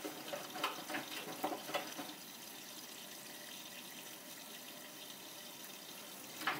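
Water pours steadily into a Miele W562 washing machine drum during a woollens wash cycle, a continuous hissing rush with a few louder splashes early and near the end, fairly close.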